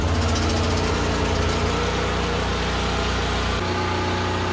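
A generator engine runs at a loud, close idle during a homestead blackout in North Idaho, rumbling and vibrating unevenly, then its pitch drops as it begins to choke out.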